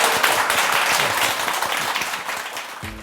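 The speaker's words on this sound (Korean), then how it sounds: "그럼 박수로 강의를 청해 듣겠습니다." Steady, dense applause from a lecture-hall audience at a Korean talk show welcoming Dr. Lee Si-hyung's talk on serotonin, close and loud, tapering slightly toward the end.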